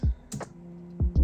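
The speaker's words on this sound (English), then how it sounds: "I am using a keyboard for this because I actually have not got a wired" A few keystrokes on a computer keyboard during setup of a newly built PC, sharp close clicks in two quick pairs with a short pause between them.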